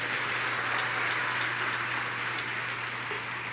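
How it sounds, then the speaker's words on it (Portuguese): A church congregation claps together in a steady, dense wash of applause, moderately distant and sustained with no voices on top. "Agora dá uma salva de palmas ao Senhor."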